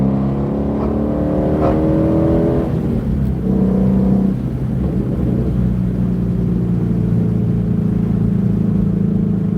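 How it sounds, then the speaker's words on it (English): A Ford Shelby GT350's engine note rising and falling through a downshift, a deep loud rumble with a quick rev blip early on, then a steady droning hum from inside the moving car, no voices. "What's that that downshift satisfying drop?"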